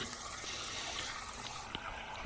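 Water rushes and gushes steadily as it drains out of a tank being emptied for cleaning at a site in Pudukoli, Manya, a continuous broadband wash with a faint knock near the end.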